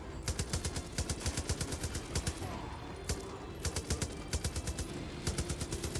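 Rapid bursts of automatic gunfire from Far Cry 5's Dead Living Zombies mode, loud and close, coming in quick repeated volleys across the whole stretch with brief gaps between them.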